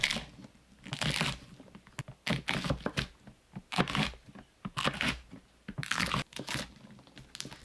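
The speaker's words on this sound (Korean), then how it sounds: "아삭이 고추 300g을 썰어주세요." A knife slices through 300 g of crunchy Korean green peppers on a board, making irregular bursts of crisp crunching cuts with short pauses between strokes, close and clear.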